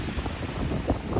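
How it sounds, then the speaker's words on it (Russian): Steady strong wind off the Black Sea at Sochi in December rushes and buffets the microphone, a constant low roar with no voices. "дует сильный ветер. На море волнение."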